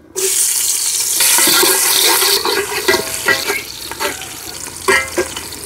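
Chopped onion frying in oil in a cooking pot on a stove, making latka khichuri: a steady loud sizzle that eases after a couple of seconds, broken by intermittent stirring scrapes.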